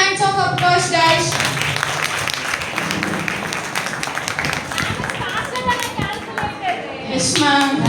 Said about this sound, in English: Give a big hands of applause, guys.